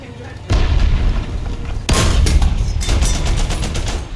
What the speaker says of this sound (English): Machine gun to finish him off.